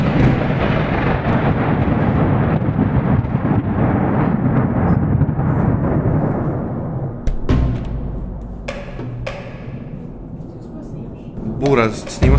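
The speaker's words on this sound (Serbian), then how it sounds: "Mene probudio me grom." Thunder from a nearby storm, with a strike about 100 metres away, rolls as a loud, deep rumble for several seconds, then fades into scattered sharp cracks and bursts.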